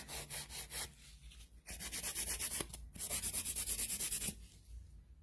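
A file rubs gel polish off acrylic nail enhancements in quick rhythmic back-and-forth strokes, close and steady, with two brief pauses between runs.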